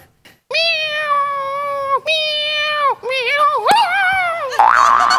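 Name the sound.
person imitating a cat meowing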